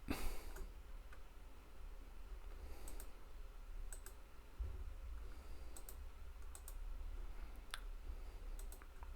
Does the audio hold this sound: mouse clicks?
yes